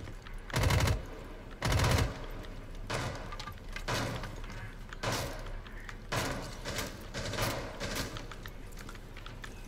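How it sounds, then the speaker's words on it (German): Several bursts of rapid automatic gunfire in the video game Rainbow Six Siege, evenly spaced and fairly loud, with a few quieter sharp clatters in between. "Die Frage ist, kamen die Schüsse von innen oder von außen?"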